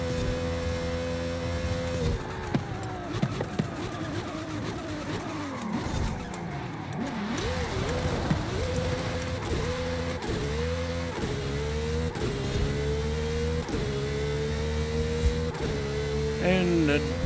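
A race car in the driving game Forza Horizon 5 roars along with a steady engine drone, shifting pitch as it brakes and squeals its tyres, heard loud and close under someone talking.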